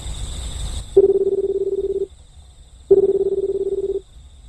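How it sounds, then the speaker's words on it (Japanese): A public phone in the video game Public Telephone places a call, giving two long, steady electronic ringing tones about a second each, separated by a short pause, clear and close with no voices. "へこたれずにもう一回電話してみましょう。"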